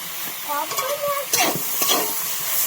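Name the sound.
stir-frying vegetables for chow mein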